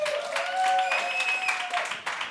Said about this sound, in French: on applaudit Charles